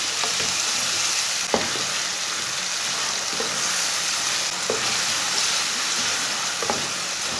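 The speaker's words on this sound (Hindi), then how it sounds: "टमाटर और सब्ज मिर्चें डाल के 2-3 मिनट तक पका लेंगे इसे भी" Finely chopped tomatoes and green chilies cook in a hot pan, a dense, even hiss of frying with a few isolated spoon knocks spaced seconds apart.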